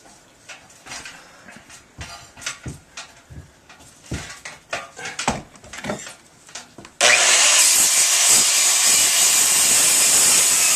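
A saw rasps through wood to make room for a window flange, giving a run of short, uneven cutting strokes. A steady, louder whirring burst follows near the end.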